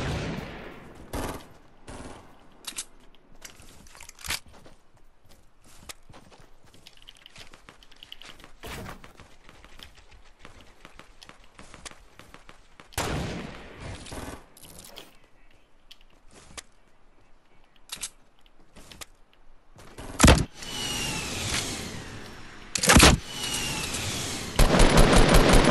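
Rapid gunfire from Fortnite Battle Royale: scattered single shots and short bursts through most of the clip, turning into louder, denser volleys near the end, with no talking.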